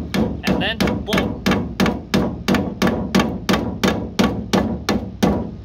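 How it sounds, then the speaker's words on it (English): A hammer pounds steadily on a nail to drive it out of wood, with about fifteen loud, close, evenly spaced blows and no pauses between them. "you just hammer away until it's completely out"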